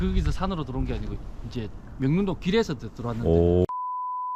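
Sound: card reader access beep

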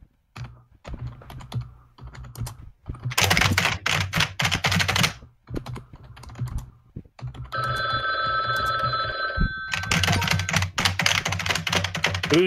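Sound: computer keyboard typing

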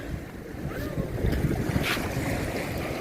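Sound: strong wind at the seaside

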